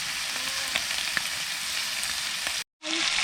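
Sausage and an egg fry in a pan at a van park-up, a steady, close, dense sizzle with faint pops and a brief dropout near the end, with no one talking.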